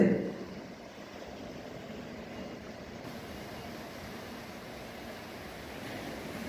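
Sea water pours off rocks on a beach as a steady broadband wash of surf, moderately loud and unbroken, with no clear separate wave crashes.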